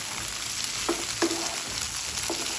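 Muthiya made from leftover khichdi frying in oil with sesame seeds, a steady close sizzle broken by a few sharp crackles and a faint utensil clink.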